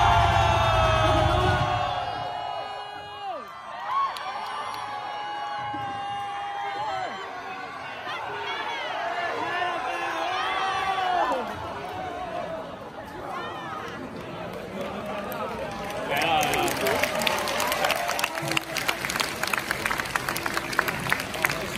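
A rock concert crowd in Taichung screams and cheers in long wavering shouts, with a voice calling out over them and the noise swelling into denser cheering and clapping near the end.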